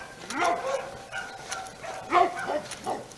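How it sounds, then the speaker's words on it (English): A dog barks and yips several times in short bursts with whimpering tones, moderately close, against a faint background. "Dog's barking."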